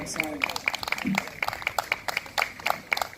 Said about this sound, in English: So you can give a round of applause to that.